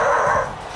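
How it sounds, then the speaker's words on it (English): An excited dog gives a short, loud, close yelp or bark that lasts under a second and ends quickly, with no other sound around it. "I was distracted by the dog!"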